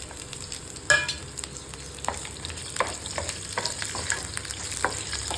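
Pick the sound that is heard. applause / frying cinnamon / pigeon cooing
frying cinnamon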